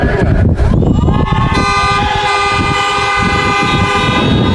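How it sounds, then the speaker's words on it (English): Several car horns toot and blare over one another at a 2020 high school graduation ceremony, a long sustained honk joined by shorter beeps, loud and close, amid traffic noise. "honk if you got a graduate"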